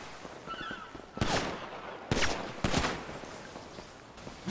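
A few sharp gunshots from a video game, spaced apart over quiet background noise, each a loud crack with a short tail, with faint game ambience in between.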